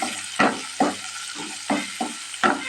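Chopped onions and curry leaves sizzle in a hot pan while being stirred, with six distinct scraping strokes landing at a steady rhythm over a continuous close frying hiss.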